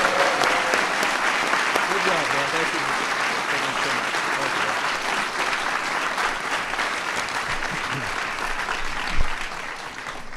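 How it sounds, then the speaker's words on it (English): Crowd in a White House room applauds the San Francisco Giants: dense, steady clapping fills the whole stretch at full strength, with scattered voices and a brief shout mixed in. "Everybody give a big round of applause."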